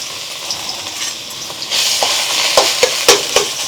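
Chopped bottle gourd roasting in a hot pan for a Navratri fasting sweet, a steady close sizzle that swells midway, punctuated by several sharp clicks of a ladle stirring and scraping.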